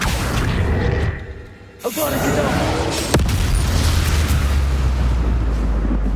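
A Confringo spell blasts in Hogwarts Legacy, a loud booming explosion with a whooshing burst, then a sharp crack and a lingering low rumble under steady game noise.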